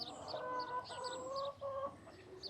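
Hens cluck in a chicken coop, several birds calling in short overlapping bursts at close range over a steady farmyard background, with no talking.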